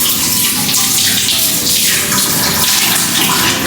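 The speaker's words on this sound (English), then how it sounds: "I need to wash my hands before the persimmon." Water runs steadily from a tap in a strong, close, uninterrupted splash for a few seconds while someone washes their hands, with no voices.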